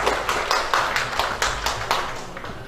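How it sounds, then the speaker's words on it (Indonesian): An audience at a pesantren leaders' inauguration in Bekasi clapping for West Java, sharp claps falling in a steady, evenly spaced rhythm, clear and fairly close. "Tepuk-tepuk Jawa Barat dulu dong, ya."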